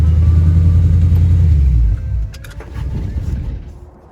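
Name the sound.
Chevy Coupe car driving in winter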